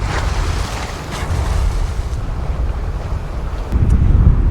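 The trawler Sea Venture cruises up Johnstone Strait, a steady loud rush of water and wind against the hull with a low engine rumble beneath, swelling louder near the end, with no voices.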